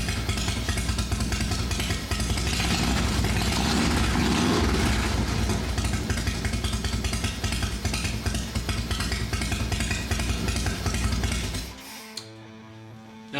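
A motorcycle fitted with an S&S 510C complete cam kit idles in a loud, steady, close rumble that runs evenly before the engine shuts off near the end.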